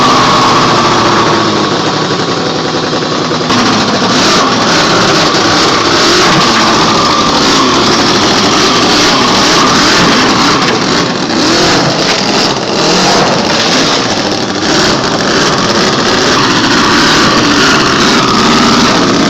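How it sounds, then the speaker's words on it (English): A Weber Precision miniature 45cc V8 hot rod engine revs loudly and continuously up close with a high-pitched snarl, its revs rising and falling over steady engine noise. "a 45 cubic centimeter V8 powered scale model, revving up with a high-pitched snarl"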